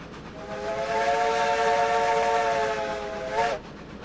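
A steam locomotive's whistle on a cold start run sounds one loud, steady multi-tone blast for about three seconds, swelling slightly before cutting off, over low rumbling running noise.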